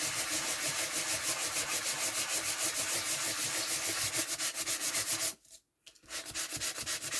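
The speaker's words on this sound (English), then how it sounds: "so now we're going to sand this back, and this is our hunky dory card" A sanding block rubbed back and forth over Hunky Dory foil card, giving steady, rhythmic close-up scratching strokes that stop briefly near the end before resuming.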